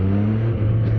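A 2025 Triumph Trident 660 motorcycle engine pulls hard under acceleration, a loud, close, steady low drone with a strong rumbling tone that holds throughout the short burst.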